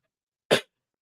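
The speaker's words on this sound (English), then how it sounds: "excuse me for the coughing too" A single short, sharp cough, close and abrupt, surrounded by silence.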